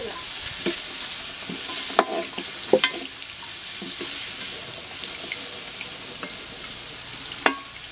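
Chicken sizzles steadily in a pan over a village cooking fire while a utensil stirs it, a constant hiss broken by a few sharp scraping clinks, close and moderately loud.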